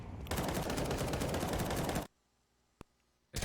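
Counter-Strike 2 gunfire shooting through a wall: a dense, loud automatic burst lasting about two seconds cuts off abruptly, followed by one sharp isolated shot and another burst starting at the very end.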